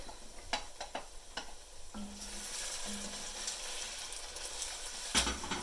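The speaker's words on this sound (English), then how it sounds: "Give it a good stir." Leeks being stirred in a soup pot for leek and potato soup: scattered clicks and scrapes of a spoon, then a steady sizzling hiss as they cook, with a sharp knock near the end.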